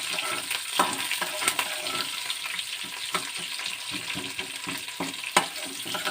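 Sliced onions fry in a pan with a constant crackling sizzle, stirred in occasional scraping strokes close up; no talking.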